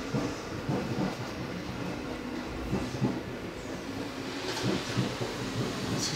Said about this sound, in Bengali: এটা আসলে এক্সপ্রেস ট্রেন তো, লং জার্নি, সেজন্য